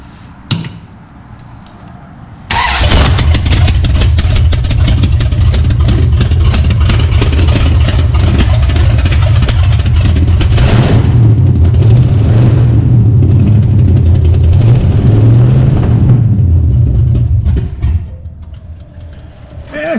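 A 1966 Plymouth Belvedere's 440 V8 running through open exhaust, loud and close, with a deep steady rumble and revving after it fires about 2.5 seconds in, idling on before cutting out near the end.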